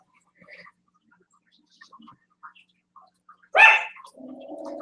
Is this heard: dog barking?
yes